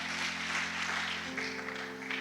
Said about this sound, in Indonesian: Kita berikan tepuk tangan dulu buat Tuhan Yesus yang luar biasa.